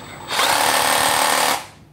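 Close up, a Makita 14V cordless battery drill with two speed settings spins up, holds a steady high whine for just over a second, then winds down.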